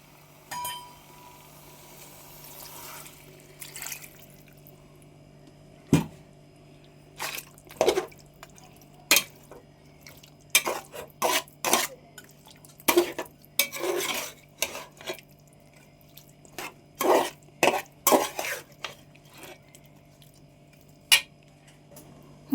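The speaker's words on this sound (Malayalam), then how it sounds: "അങ്ങനെ ശകലം വെള്ളവും കൂടെയൊക്കെ വീഴ്ത്തി ഒന്ന് യോജിപ്പിച്ചൊക്കെ എടുത്തിട്ടുണ്ട്." Water poured into chicken curry in a pot and stirred, mostly quiet at first, then a series of sharp clinks and scrapes of a spoon against the pot in quick irregular bursts, with no talk.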